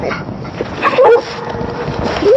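A dog whimpers and gives short yelps outdoors at Goatman Bridge. A few high whines stand out close and loud over gusty wind.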